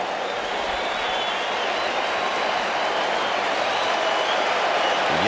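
A baseball crowd at Yankee Stadium during a Mets at Yankees game keeps up a steady, dense roar of cheering and clapping, urging on a two-strike count with no lull across the stretch.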